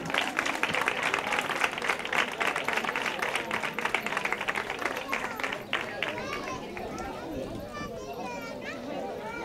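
Applause from families at a children's end-of-year school ceremony, strong clapping that fades after about six seconds into children's chatter and voices.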